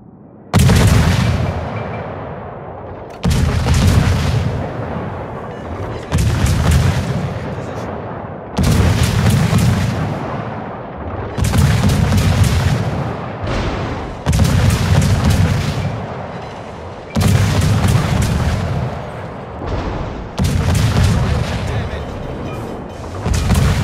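Heavy naval artillery from a warship video game fires in regular salvos, about eight loud booming blasts roughly three seconds apart, each followed by a decaying rumble.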